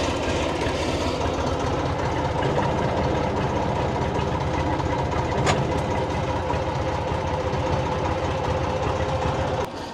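A tractor engine drones steadily and loudly while the tractor drives forward with a rear tipping bucket attached. The rumble stays even and continuous, with faint rattles and no clear talk.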